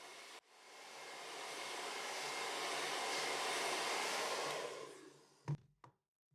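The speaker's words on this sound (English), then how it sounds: "turn on the hairdryer again, concentrating the heat on the part of the glass next to it" A hairdryer whirs steadily at close range for several seconds, heating the glass of a MacBook Pro unibody screen, then cuts off, followed by a couple of brief knocks.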